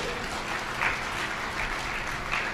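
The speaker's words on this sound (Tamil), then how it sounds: "நீங்கள் கைத்தட்டிங்கல்ல" An audience at a Tamil speech applauds in a steady, fairly dense wash of clapping, moderately loud and continuous with slight swells.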